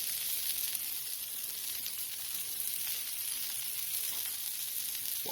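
Smash burgers sizzling on a flat griddle give a steady, dense hiss that holds evenly throughout, close and fairly quiet, with no talking.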